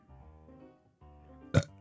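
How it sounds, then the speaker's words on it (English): A single short, loud burp from a person bursts out near the end, following a stretch of faint low humming tones in an otherwise quiet room. "I'm just burping and I'm burping right into your ear holes"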